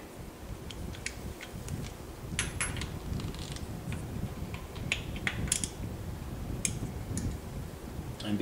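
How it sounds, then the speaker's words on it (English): A 13/16 inch deep socket on a ratchet loosens spark plugs on a 1977 Triumph Spitfire 1500 during a tune-up. Faint, steady ticking clicks of the pawl come through low background noise, close and unhurried. "Next thing I'm going to do is remove the spark plugs and keep them in order"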